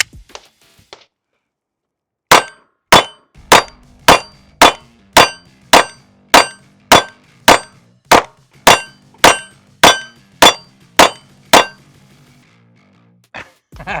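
A Live Free Armory Apollo 11 firearm fires a rapid, evenly spaced string of about sixteen loud, sharp shots, preceded by a few faint handling clicks and followed by a single trailing report.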